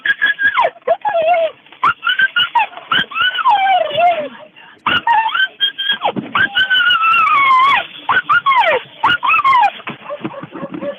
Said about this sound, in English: Got a happy dog there, Patty?